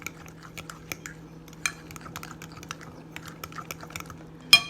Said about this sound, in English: So a teaspoon of baking soda, and I'm going to mix this in nicely